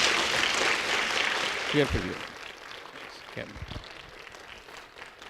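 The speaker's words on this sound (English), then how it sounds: "Let's have a round of applause." Audience applause at a caramel color science roundtable, a dense wash of clapping that fades over a few seconds, with a short spoken exchange cutting in near the middle and again toward the end.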